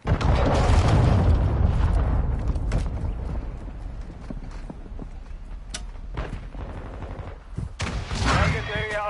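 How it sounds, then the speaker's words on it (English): Explosive blasts and rapid gunfire from a Modern Warfare 2 battle, loud and dense from the start, with a heavy rumbling impact and scattered shots continuing throughout and another burst near the end. "Hostile cruise missile launched."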